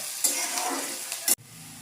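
Poha with peanuts and turmeric is stir-fried in a pan, a close sizzle with scraping stirs that ends in a sharp clack, then a quieter hiss.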